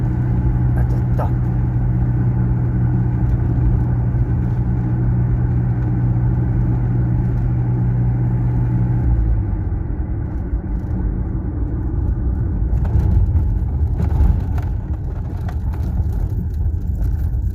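A car drives uphill in fourth gear on a flood-damaged stretch of the R62 road, its engine a loud, steady drone with a low hum that shifts partway through, then rougher rumbling as it nears the top.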